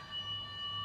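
A brief, steady electronic chime of layered tones from a Japanese home fire safety warning, held evenly at a moderate level with no voices.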